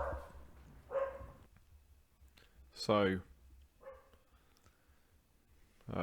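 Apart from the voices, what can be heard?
dog barking after the doorbell rang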